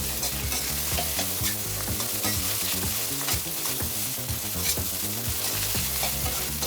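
Continuous sizzling and rapid scraping of fried rice with shrimp-head fat being stir-fried over high heat in a hot wok, busy and close, with no talking.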